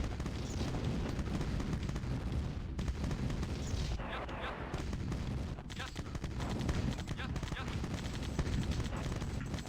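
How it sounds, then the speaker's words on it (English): A large group of medium tanks fires at turrets in the video game Command & Conquer, with dense, continuous loud gunfire and booming impacts thundering together, with brief dips between volleys. "They fall pretty quickly when they're being fired at by that many medium tanks."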